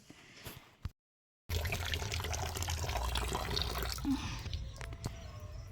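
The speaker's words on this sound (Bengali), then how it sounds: "তিনটা বালতিতে জল ভরে নিয়েছি" Water runs steadily from a tap into buckets, a continuous close splashing fill after a few drips and a brief silent gap.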